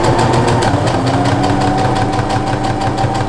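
A sewing machine runs a steady straight stitch through bedsheet fabric, giving a loud, continuous mechanical whir with a fast regular pulse that goes on without pause and has no talking.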